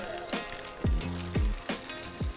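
MicroConcrete sealer, thin and watery, poured into a paint tray, several glugging liquid gurgles with falling pitch at close range, no voices.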